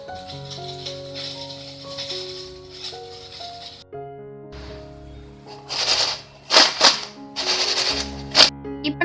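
Crisp crunching and crackling bursts of fried drumstick-leaf ragi pakoda, several sharp snaps in quick succession, heard over background music that stops partway through.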